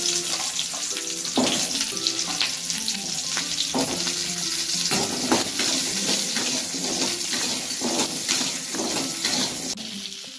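Urad dal, chana dal and shallots fry in oil in a pan for pirandai chutney, a steady loud sizzle with frequent spatula scrapes and clinks as the mixture is stirred.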